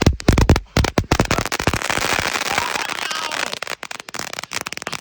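New Year's firecrackers crackle in a rapid, dense string of sharp pops, starting with louder separate bangs and settling into a continuous close-by crackle that thins out toward the end.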